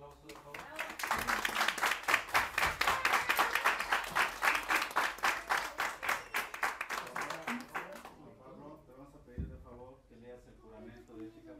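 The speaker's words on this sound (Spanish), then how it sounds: "Un fuerte aplauso, por favor." Audience applause at an engineering degree ceremony: dense, steady clapping from a sizeable crowd builds quickly and holds for about seven seconds, then drops away as a voice speaks over the quiet room.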